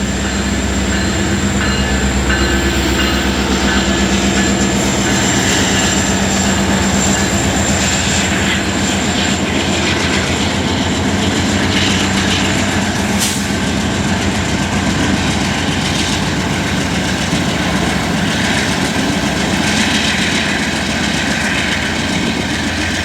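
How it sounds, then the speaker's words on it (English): Norfolk Southern freight train near Atlanta that had been parked begins to move, a loud, steady rumbling drone with a low engine hum and faint high whine, continuous throughout. "And then that parked freight train started moving."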